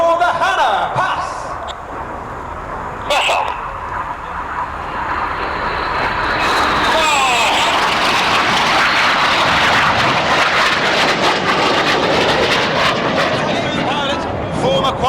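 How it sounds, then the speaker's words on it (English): RAF Red Arrows jets fly the Hannah pass at the RIAT 2024 airshow. A distant jet roar builds steadily into a loud, sustained rush that fills the second half, with a crowd and public address announcer audible underneath. "get your cameras ready for the Hannah pass"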